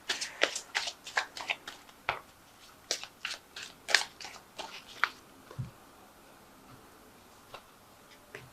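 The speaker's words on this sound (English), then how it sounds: "Now I have shuffled this deck." A tarot card deck is shuffled by hand in a run of crisp, riffling card flutters and taps that cluster near the start and then thin out to a few sparse clicks.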